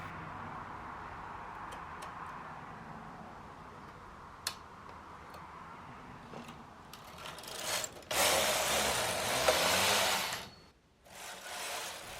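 Knitting machine working on a fitted dress top, quiet clicks and ticks, then a loud rushing carriage sweep across the bed, a short pause, and another pass.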